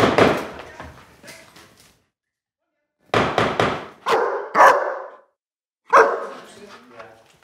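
A dog barks aggressively at a visitor at the door in a few sharp bursts separated by pauses, loud and close.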